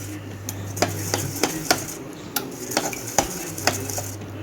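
Whisk beating curd marinade for KFC-style fried chicken in a bowl, quick repeated metallic clinks and scrapes in an uneven rhythm close by, with a steady low hum underneath and no talking.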